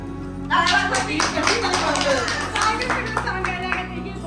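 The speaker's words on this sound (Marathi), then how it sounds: "टाळ्या वाजवा" Several people clap their hands at a wedding gathering, a lively run of close, overlapping claps with voices mixed in underneath.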